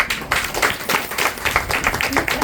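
Scattered audience clapping at a spiritual discourse, a moderate patter of hand claps with uneven rhythm, fairly soft and continuous for a couple of seconds.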